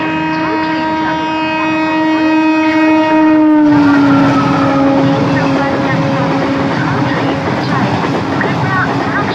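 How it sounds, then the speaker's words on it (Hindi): A through train passes a railway platform, its horn sounding a long sustained tone before the loud rumble and clatter of the wagons takes over, with a station announcement audible under the noise. "3 number platform में थ्रू ट्रेन जाने।"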